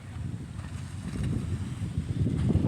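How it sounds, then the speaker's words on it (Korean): Low, gusty seaside wind on the foreshore at Cooktown, Queensland, rumbles and buffets the microphone, rising slightly in strength toward the end, with no voices. "You can hear the wind."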